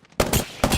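Two loud, close bursts of gunfire in a video game, each a sharp blast with a rattling tail, following a quieter soft thump at the start.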